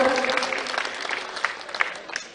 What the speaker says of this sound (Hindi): जोरदार तालियां बजाकर आप सिलावट जी का स्वागत करें।